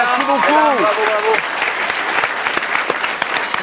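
Studio audience applause on a French-language television show, sustained clapping and crowd noise throughout, with a host's excited voice calling out over it at the start.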